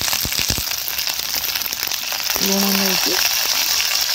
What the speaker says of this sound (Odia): ଏଠି ଆମେ ଭେଣ୍ଡି ଭାଜିଛୁ